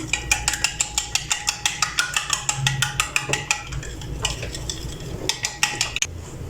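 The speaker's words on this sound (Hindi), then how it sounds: "अब ये जो अंडे लिए हैं इनमें मैं थोड़ा सा ब्लैक पेपर और थोड़ा सा सॉल्ट डाल के तो अच्छे से मिक्स कर लूँगी।" Eggs seasoned with black pepper and salt are whisked briskly in a bowl, giving a fast, even run of close clinking utensil taps that pauses briefly and then resumes.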